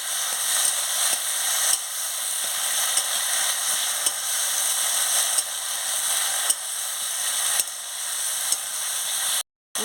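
Malabar spinach sautés with spices and chopped tomato in a pan, a continuous close sizzle broken by sharp clicks and scrapes of a spatula stirring, with a brief cutout near the end.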